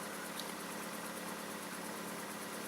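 Car engine idling while it warms up at just over 1000 rpm, a steady, faint, even hum with a faint vibrating texture, unchanging throughout and with no talking.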